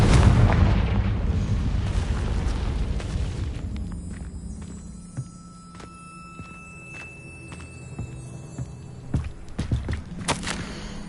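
Confringo fire spell in Hogwarts Legacy: a heavy booming blast up front that rumbles out, followed by scattered crackling debris, thuds and footsteps, loud and close with no talking.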